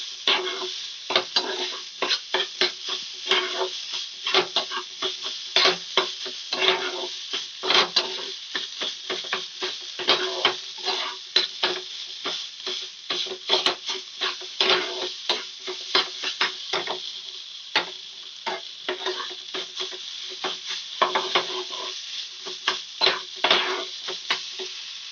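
A spice mixture with chaat masala is stirred in a pan, making a dense run of quick scraping, ticking strokes over a low sizzle, close and continuous with no voices.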